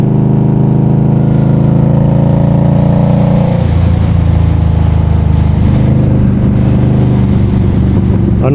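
An Indian Scout Bobber motorcycle engine drones loud and steady while riding along a ridge-top road. Its pitch drops and shifts about midway, with wind-like noise underneath.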